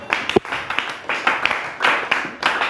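A church congregation claps in a quick, uneven rhythm of sharp hand claps, fairly close and loud, with voices faintly mixed in beneath the clapping.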